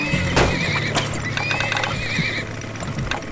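Horses in the oil-drilling strategy game Turmoil neigh loudly, with clip-clopping hooves and faint mechanical ratcheting underneath, several whinnies overlapping in quick succession without any speech.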